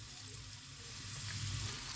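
Gongura leaves hiss and sizzle in hot tempering oil with curry leaves for a roselle pickle, a steady, quiet frying crackle with no voices.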